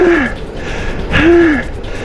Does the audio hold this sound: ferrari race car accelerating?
no